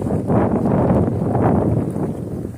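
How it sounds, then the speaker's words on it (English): Strong gusty wind beside a river buffets a nearby microphone, a continuous loud roaring rumble with surging gusts throughout. "It is brutally windy up here."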